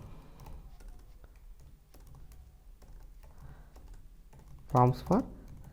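Quiet, steady clicking of keys on a computer keyboard over a low background hum, ending with a couple of louder knocks.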